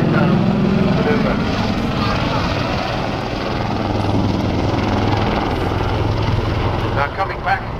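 Royal Navy Lynx Mk8 helicopter hovering at an airshow, a loud continuous rotor and engine roar throughout with a commentator talking over it on the public address.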